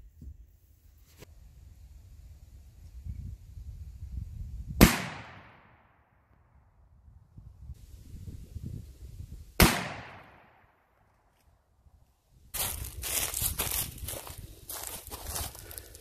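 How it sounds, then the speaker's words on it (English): Two sharp, loud gunshots from a lever action Winchester Miroku rifle fitted with Skinner sights, fired outdoors several seconds apart with quiet rustling between, followed by a burst of rattling clatter at the end. "We'll shoot another couple of rounds and see what happens."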